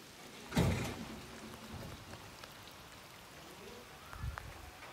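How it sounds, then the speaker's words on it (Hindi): Heavy rain falling on a village in Mirpur, Azad Kashmir: a steady, even wash of rainfall runs throughout, with a brief louder burst near the start and a soft thump toward the end. "बारिश तेज हो चुकी है।"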